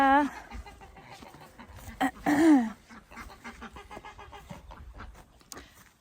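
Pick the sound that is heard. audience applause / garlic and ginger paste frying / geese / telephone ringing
geese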